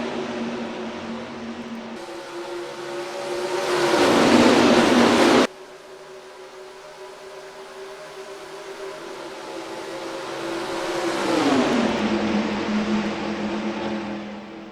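Race cars in the NR2003 video game accelerating at the green flag at Homestead, a loud steady engine drone that rises, cuts off sharply, then builds again alone without talk.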